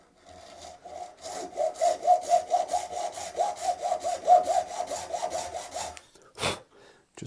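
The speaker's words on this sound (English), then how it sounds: "break out the base nut files and get these slots started" Nut files work the slots of a bass guitar nut in quick, rhythmic back-and-forth rasping strokes, close and clear, ending with a couple of separate scrapes.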